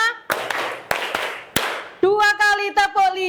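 A class of Indonesian schoolchildren claps in a counted rhythm, five sharp group claps spaced through the first two seconds, then children chant loudly in unison nearby.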